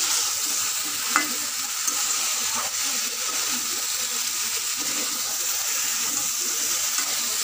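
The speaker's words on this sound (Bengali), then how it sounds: "সব মশলাকে একসঙ্গে দিয়ে মশলাটা কষে নিচ্ছি" Ginger-cumin paste, chili and turmeric sauté in a pan for a fish curry, giving a steady, even sizzle and hiss that carries on without a break, with a few faint clinks of stirring.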